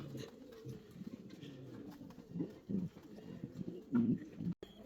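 Fancy pigeons, including a white Uzbek female, coo softly in low throaty bursts at a pigeon farm in Natore, with several overlapping calls rising louder toward the end over a steady background hum.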